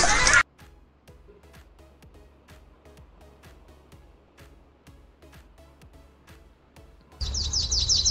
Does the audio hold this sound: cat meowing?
no